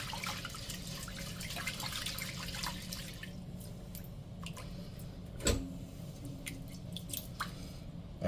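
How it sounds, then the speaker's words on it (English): Rice is soaked and rinsed in water: a close, running, splashing wash gives way to scattered drips, soft squelches and one sharp knock against the container. "that's why I'm giving it a thorough soak and rinse, just to get rid of as much starch as possible"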